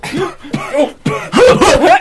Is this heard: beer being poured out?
no